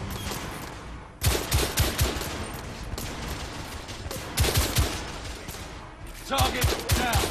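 Gunfire rattles through a room in the shooter The Order: 1886, with dense bursts of rapid shots arriving in three loud clusters separated by brief lulls. Talk is faintly present in the background.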